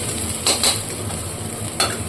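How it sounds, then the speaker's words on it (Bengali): Onions sizzle steadily in hot oil in a pan while being browned for a chicken curry. A spoon scrapes and stirs them in a few close, distinct strokes over the constant frying hiss. "মোটামুটি একটু লাল লাল করে আমি ভেজে নিয়েছি"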